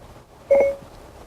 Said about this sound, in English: press and hold the off-hook switch on the steering wheel, okay, until you hear the Siri beep or see Mobile Assistant come up on the screen